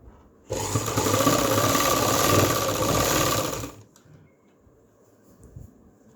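An electric sewing machine stitches a salwar, a loud, fast, even whirring run lasting about three seconds before it stops, followed by quiet handling noises.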